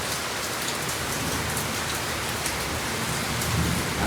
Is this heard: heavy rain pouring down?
yes